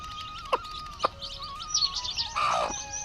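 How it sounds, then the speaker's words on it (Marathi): Newly hatched chicks from a hen chirp while eating: a few short, high peeps and tweets, close by and fairly quiet, with no talking. "आपल्या कोंबडीनं पिल्लं काढलेली आहे ती"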